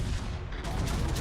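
Naval gunfire from high-explosive shells in World of Warships, a dense, rumbling fusillade of booms that runs steadily through the short moment with no talk over it.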